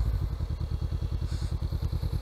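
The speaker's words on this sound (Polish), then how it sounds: "podnosimy dźwignię zdecydowanie, wrzuca nam się dwójeczka, puszczamy delikatnie sprzęgło i mamy zapiętą dwójkę" A motorcycle engine running with a steady rhythmic low throb while the rider shifts up into second gear, close and fairly loud, with no voices.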